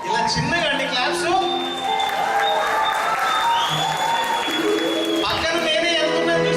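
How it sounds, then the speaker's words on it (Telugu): Audience applause fills a stage show at a 2015 Ugadi celebration, a dense, steady clapping crowd sustained for several seconds with voices mixed in. "ఇలా చిన్నగా అండి క్లాప్స్."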